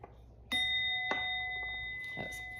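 A small bell is struck during a tarot card reading, giving a clear ringing ding that sustains with steady overtones, followed by softer taps and a second faint strike, quiet and close with no talking.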